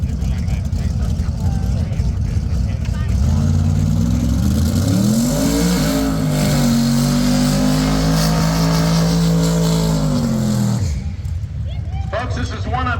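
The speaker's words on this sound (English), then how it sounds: "Send him on his burnout way." A drag racing car at a Sick Summer race day holds a loud, close burnout, its engine revving up and sustaining a high roar before cutting off, with crowd noise and talk around it.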